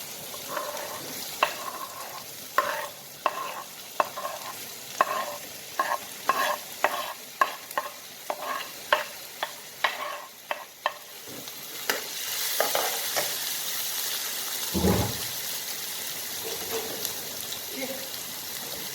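Ginger, garlic and onions frying in ghee in a pan, with a steady sizzle beneath repeated sharp scrapes and taps of a spoon stirring them, followed by a louder hissing flare near the end.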